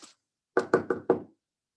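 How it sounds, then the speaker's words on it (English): Four loud, evenly spaced knocks on a door, close and hard, sounding after a short faint noise and a pause, with silence around them. "I unlock his door, think about entering, but decide to knock loudly instead."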